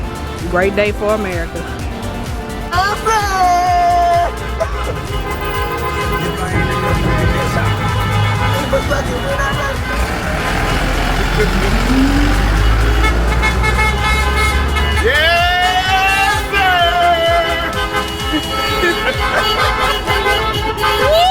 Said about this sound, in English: As you can hear the horns going off.